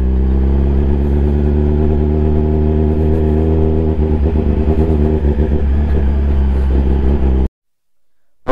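A Kawasaki ZX-10R superbike engine drones loudly and steadily while riding off-road on a rough dirt road, holding a dense, even roar for about seven seconds before cutting out abruptly into near silence.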